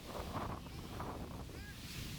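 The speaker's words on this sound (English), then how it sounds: "Definitely a windy day here in Mason, Ohio." Steady wind buffets the microphone outdoors at an Australian football match in Mason, Ohio, a low continuous rumble with gusty swells and a faint distant voice.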